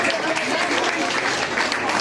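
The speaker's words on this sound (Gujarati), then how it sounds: "એમની આ ગિરનારી ઊંચાઈ ધરાવતા વર્કને આપણે તાળીઓથી વધાવી લઈએ." Audience applause fills a hall, a dense steady wash of clapping at moderate level with some crowd noise, following a speaker's call to honour someone's work.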